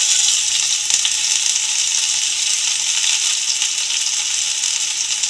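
Chopped chilli and garlic fry in hot oil with popped mustard seeds, giving a steady, loud, close sizzle that holds without a break throughout.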